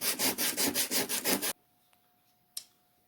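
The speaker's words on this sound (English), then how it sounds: "And I'm going to sand down this rough spot." Sandpaper is rubbed back and forth over a rough spot on a wooden heart sign, making about eight quick, close scratchy strokes in a steady rhythm. The sanding stops halfway through and leaves near silence with a single small knock.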